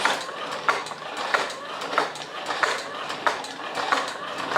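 Small motor and gearbox inside a 3D printed monster robot running, a soft whirring hum broken by a regular series of light mechanical clicks and ticks repeating roughly every two thirds of a second, close and fairly quiet.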